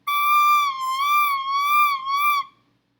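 A recorder held with a finger hole not fully covered plays a thin, wavering high note, slightly breaking in pitch across about two and a half seconds, then stops; close and alone.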